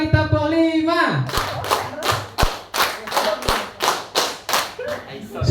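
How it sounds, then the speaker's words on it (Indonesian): Teachers gathered at a school discussion session clap together in a counted pattern: a voice speaks briefly, then about ten sharp group claps follow in a steady, brisk rhythm, loud and close. "Tepuk 1, tepuk 2, tepuk 3, tepuk 4, tepuk 5."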